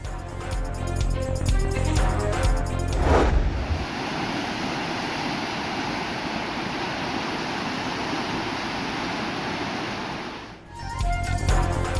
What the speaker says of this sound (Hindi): घोटकी में दरियाई सिंध का पानी रोंधी बचाव बंद से टकराने लगा।